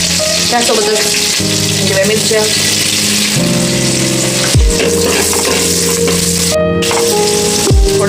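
Whole spices crackle and sizzle steadily in hot oil left over from frying onions for a biryani, under a continuous layer of tonal background music.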